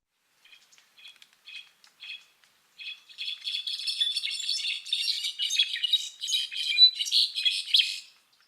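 A brown-backed solitaire, a thrush of Mexico's highland pine-oak forests, sings alone: a few sparse high notes, then a dense, continuous run of ringing, overlapping whistles and trills that grows louder toward the end.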